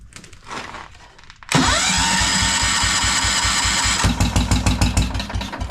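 A Kohler 10hp small engine, primed with starter fluid while its points and coil are checked, cranks and suddenly catches with a loud, steady roar, then settles into a pulsing, uneven chug, close and alone.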